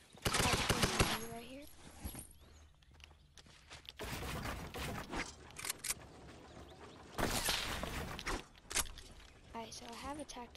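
A tactical SMG fires in a Fortnite-style shooter in quick bursts of rapid shots spread across the moment. A person talks over the firing, and there are some quieter mechanical clicks between bursts.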